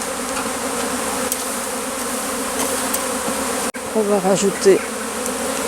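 Bee swarm buzzing steadily and loudly at close range as it is gathered into a box, a dense insect drone with a brief break followed by sharper, louder buzzing bursts and a short spoken phrase.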